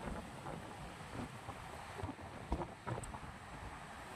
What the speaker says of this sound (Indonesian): Anginnya ini kencang sekali nih